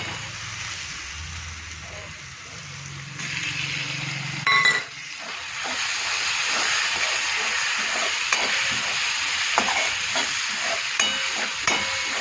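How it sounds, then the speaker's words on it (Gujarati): Tomatoes go into a pan of fried onions for soybean keema, a brief clatter followed by steady sizzling, hissing and stirring scrapes close by, with a voice talking over it. "હવે અંદર નાખી દઈએ ટામેટાં"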